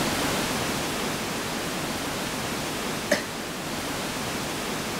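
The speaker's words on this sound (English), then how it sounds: "There is your freaking waterfall." Waterfall in the RollerCoaster Tycoon 3 video game, a steady even rushing hiss of falling water that fills the whole stretch, with one small click partway through.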